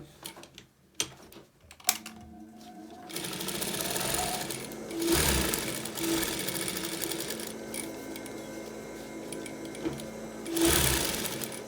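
A sewing machine stitches fabric over a bra cup. It runs quietly in several short whirring bursts with pauses between them, and there are soft handling clicks around it.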